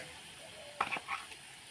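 Spices frying in a wok with garlic, onion and ginger paste: a faint sizzle with a brief clatter of stirring, quiet and close.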